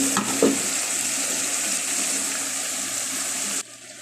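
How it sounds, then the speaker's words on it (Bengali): Potatoes sautéing with onion and garlic in a pan give a steady, close sizzle, with a couple of brief stirring scrapes early on, before the frying noise drops away abruptly near the end. "পেঁয়াজ রসুনের সাথে আলুটা আমি একটু কষাই নিতেছি"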